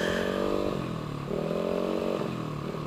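A racing motorcycle engine from an RC Bandung build runs loud and close, its note rising and falling as the throttle is blipped several times.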